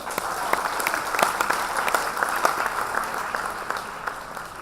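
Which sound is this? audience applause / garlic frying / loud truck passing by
audience applause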